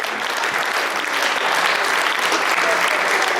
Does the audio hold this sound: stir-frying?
no